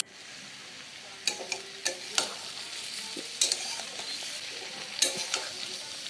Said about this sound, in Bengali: সমস্ত কিছু মিশিয়ে নিয়ে 1 থেকে 2 মিনিট একটু ভেজে নেব